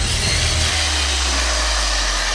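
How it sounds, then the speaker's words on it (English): A mud truck's engine roars loud and steady at high revs, with a brief deeper surge at the start, as its tires spin through mud, no voices over it. "All of your tires are spinning."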